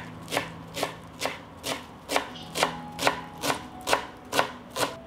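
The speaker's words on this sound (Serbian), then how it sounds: "iseckat ću jednu manju vezu svežeg peršuna" A knife chops a small bunch of fresh parsley on a board in eleven crisp, evenly spaced strokes about half a second apart, close and clear with no talking.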